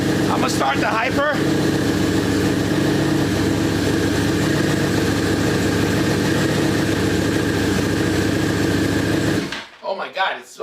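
A Hyper motorcycle engine fires up and settles into a loud, steady, throbbing idle, then cuts off abruptly near the end, leaving brief scattered voices and handling noise.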